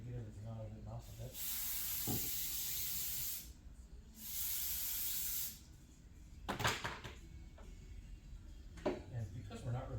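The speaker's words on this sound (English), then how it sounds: "I'm going to go and spray this one out. A little part sink over here." Two long bursts of loud, steady spraying hiss, each about two seconds, as a motorcycle part is sprayed out in a parts sink, separated by a short pause, followed by clanking and some speech.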